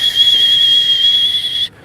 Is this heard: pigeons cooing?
no